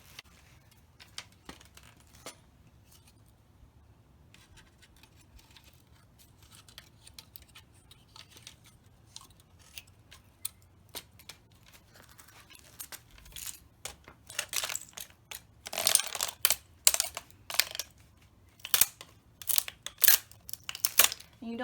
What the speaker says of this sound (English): hold your loppers steady and put some body weight in it, and it chops it right